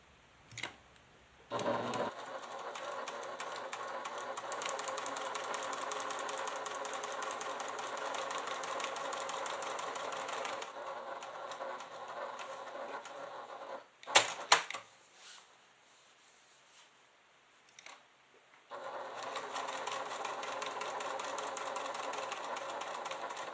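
A sewing machine stitches quilted leather for a clutch in long, steady runs of rapid needle clatter, stopping for a few seconds with small clicks and handling noises before starting again, close and clear.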